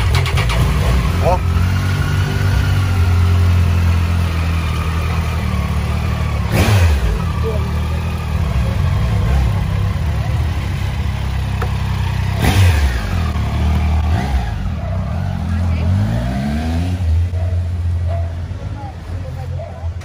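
A black Triumph Tiger motorcycle engine rumbles loud and close, rising in a few revs with sweeping pitch before settling, while people talk over it.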